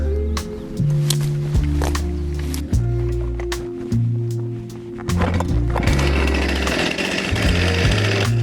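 Chainsaw cutting firewood from a felled log at an off-grid building site, the engine revving loud and close in several long cutting bursts with brief idle dips between them.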